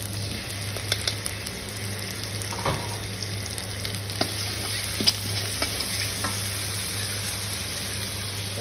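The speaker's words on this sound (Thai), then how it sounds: "ผัดน้ำมันให้หอมเลย หอมแล้ว ใส่พริกเผาลงไปช้อนหนึ่งครับ" Chili paste stirred into hot oil for a dish of clams with oyster sauce, a steady close sizzle with light scraping stirs and small utensil ticks throughout, no voices.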